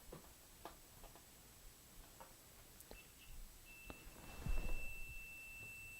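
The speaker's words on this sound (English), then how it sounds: "So it should beep when I connect this wire to the ends of the alligator clips." A thin, steady electronic multimeter continuity beep sounds and holds for a couple of seconds as a wire connects alligator clips, amid small clicks and handling noises nearby.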